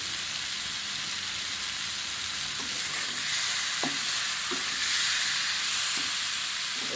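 Fish and spices fry in a pan for a rohu and potato curry, giving a dense, steady, loud sizzle with a few soft knocks from stirring underneath.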